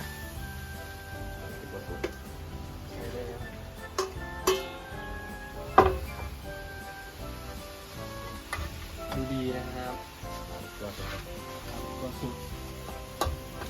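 Thai basil with minced pork stir-fried in a wok, a steady sizzle with scraping stirs and occasional clanks of the spatula against the pan, close and continuous.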